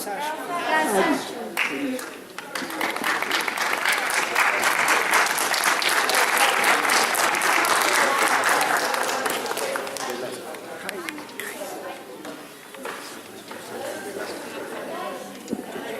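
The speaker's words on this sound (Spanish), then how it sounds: "entonces fuertes los aplausos" A crowd at an International Day of Indigenous Peoples event in Cajamarca applauds, building from scattered claps to a loud, full round of clapping that swells mid-clip and then thins, with voices and chatter mixed in.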